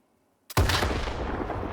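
An RPG-7U launcher fires in S.T.A.L.K.E.R. 2, one sudden loud blast after a moment of silence, followed by a long rumbling roar that slowly decays.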